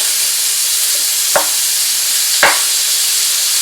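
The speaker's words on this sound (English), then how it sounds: "fry up the ground beef until it's nice and brown all over" Ground beef for cottage pie frying in a pan, giving a loud, constant hissing sizzle with two brief scraping stirs of the utensil.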